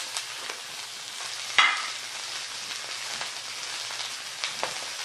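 Salmon fillet frying in a pan after being flipped, giving a steady, fairly quiet sizzle with scattered crackles and one sharper pop.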